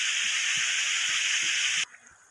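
Lentil crackers (pappu chekkalu) fry in hot oil with a steady, close bubbling sizzle that runs loud and even, then cuts off abruptly near the end, leaving only a faint hiss.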